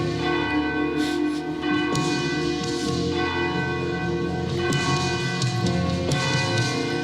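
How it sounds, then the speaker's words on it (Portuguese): A ship's bell rings continuously and loudly, its sustained tones layered and overlapping with repeated strikes throughout. "Esse é o som de um sino que tocou por 14 minutos naquele barco"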